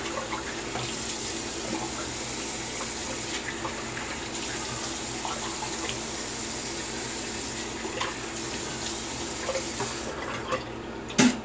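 Running tap water pours steadily as a Kamisori straight razor is rinsed beneath it, a continuous close hiss that holds for the whole stretch and ends with a brief clatter.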